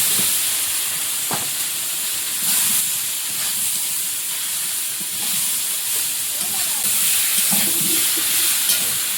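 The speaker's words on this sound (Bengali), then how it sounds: "একটু হলুদ গুঁড়ো আর লবণ দিয়ে মান করছি আলু" Potatoes with turmeric and salt frying in a pan give a continuous close hiss and sizzle, with occasional light stirring clicks and scrapes.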